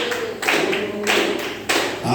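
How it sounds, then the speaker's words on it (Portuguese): Congregation at a Deus é Amor church service in Cariacica, Brazil, clapping in rhythmic bursts to praise the Lord, loud and close, with voices mixed into the clapping. "Palmas para louvar o Senhor"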